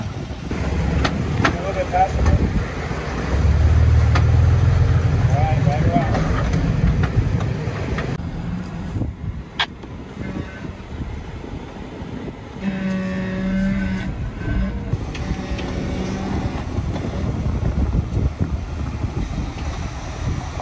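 An off-road vehicle crawls along the rocky Moab Rim Trail, its engine a low rumble mixed with buffeting wind noise and brief mechanical knocks, with voices faintly present at times.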